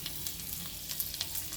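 Mixed vegetables frying lightly in a little ghee in a pan, a steady soft sizzle with faint crackles and pops running throughout, no voices.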